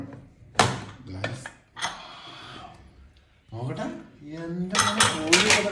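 A metal pressure cooker holding whole-chicken maqluba is opened with sharp clanks and scrapes of the lid and brief rushes of noise, while people talk excitedly throughout.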